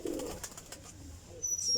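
A high-flying pigeon gives a short soft coo near the start, faint and close, followed by quiet rustling and a brief high whistle-like tone at the end.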